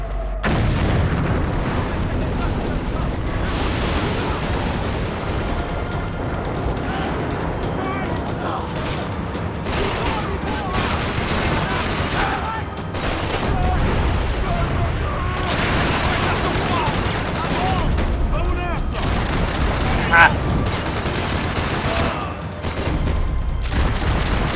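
Repeated booming blasts and crackling bursts pile up over a dense, chaotic background in the game Max Payne 3, with loud impacts scattered throughout.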